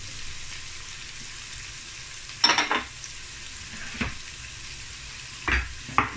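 Beans, carrots and green peas stir-fried for vegetable fried rice over a high flame, a quiet steady sizzle broken by a few sharp scrapes and stirring clatters, heard close with no speech.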